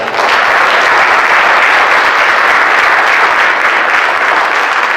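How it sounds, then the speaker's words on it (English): A conference audience applauds young people, a loud, dense, continuous wash of clapping from a large crowd lasting throughout, with no breaks. "So let's give them another round of applause."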